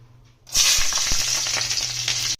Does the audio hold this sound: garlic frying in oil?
yes